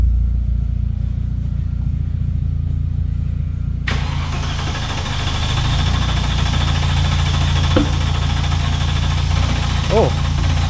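A Mercedes M113 5-litre V8 swapped into a Ford Capri cranks and fires up, settling into a loud, close, rumbling idle with a couple of brief revs; a voice talks over part of it.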